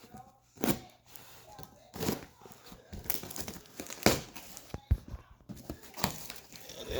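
A cardboard shipping box for a Schwinn bicycle fork upgrade is cut open and its flaps torn, giving close crinkling, scraping and ripping bursts at irregular intervals.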